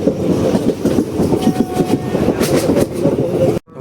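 A local train runs along with a loud, close, rhythmic clickety-clack of wheels over rail joints, steady for several seconds before cutting off abruptly.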